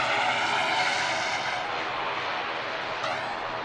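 A propeller aircraft at Manchester Airport gives off a steady, broad engine roar that slowly fades a little over a few seconds, heard from some distance with no talking.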